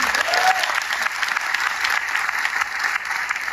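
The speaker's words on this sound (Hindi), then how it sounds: "एक बार नए साथियों के लिए जोरदार ताली बजा सकते हैं?" An audience at an RCM business program claps hard for new members, a thick, continuous burst of many hands applauding at close range with a faint voice briefly audible underneath.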